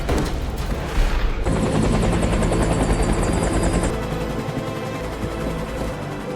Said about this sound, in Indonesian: Gelombang kejut ledakan membuat helikopter mereka jatuh terhempas di gurun.